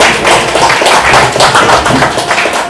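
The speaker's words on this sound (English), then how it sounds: "So round of applause for the star cast here" Dense, continuous clapping from a crowd, steady and loud throughout with no pauses.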